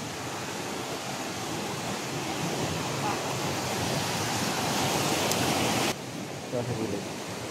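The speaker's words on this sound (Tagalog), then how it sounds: "nang gagaling yung tubig na rumaragasa doon sa ibaba" Rushing water flowing down below near abandoned houses, a steady broad roar that runs loud and continuous before dropping off abruptly near the end, with faint talk.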